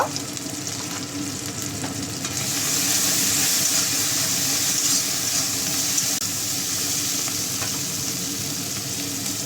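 Ground ginger with dry and green chili paste hitting hot oil for a chicken and yam curry, a dense steady sizzle that swells louder after a few seconds and keeps hissing close up.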